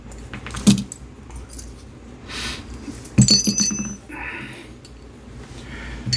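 Metal parts of a rifle bolt carrier group clink and rattle as they are handled and taken apart, with a few sharp jangling bursts between quiet pauses.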